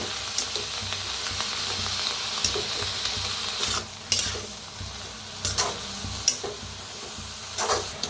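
Safflower leaf greens are stirred and mixed in a pan, a steady frying hiss under irregular scraping and tossing strokes, nearby, no speech.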